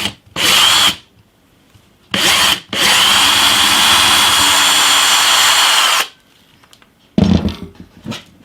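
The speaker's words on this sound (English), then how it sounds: "I'm just going to have to cut the fretboard at the end here where the nut's going to go" A power saw or rotary tool cuts across a guitar fretboard at the nut end during a handmade guitar build, running in two short bursts and then a long steady whine of about three seconds, close and loud, with a brief rough burst at the end.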